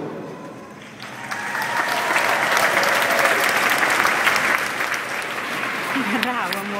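Audience applause at a science advocacy event swells after a quiet start into loud, dense clapping that holds steady, with voices briefly audible near the end.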